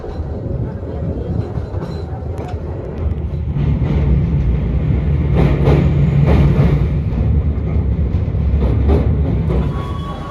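The Singasari passenger train rolls into Lempuyangan station in Yogyakarta, a steady close rumble and rattle of carriages swelling midway, with faint clicks of wheels over rail joints heard from aboard.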